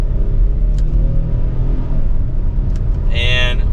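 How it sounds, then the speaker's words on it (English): A 2024 Hyundai Palisade Calligraphy accelerating in sport mode, with a loud, steady engine rumble and road noise heard from inside the cabin and a brief speaking voice near the end. "Let's put it into sport mode though and give it some gas."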